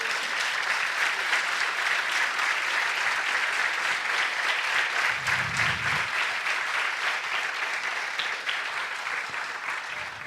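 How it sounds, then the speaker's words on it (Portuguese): A church congregation applauding, dense continuous clapping from many hands filling the room for about ten seconds and fading slightly toward the end, with a brief low murmur midway. "pode aplaudir e glorificar o nome do Senhor"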